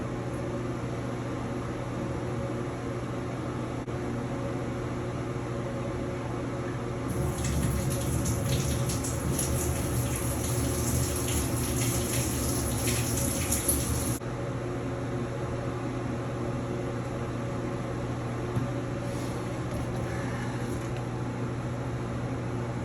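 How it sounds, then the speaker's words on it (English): Water runs through a newly installed Sharkbite coupler and ball valve, a steady hiss that swells louder for several seconds in the middle before settling back to a constant low flow under a humming background. "I'm going to turn on the water a little bit."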